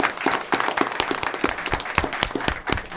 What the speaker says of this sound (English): if we could just give all our kids another round of applause